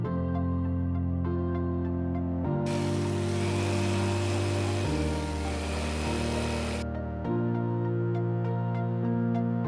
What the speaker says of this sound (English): I got my jigsaw here and I'll go ahead, I'll drill a starting hole and then I'll go ahead and get it cut out.